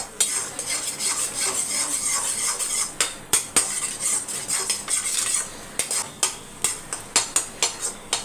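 Metal spatula clatters against a pan while chopping and stirring egg chicken fried rice, a steady busy scraping for three seconds, then sharp repeated taps in an uneven rhythm, close and loud with no talking.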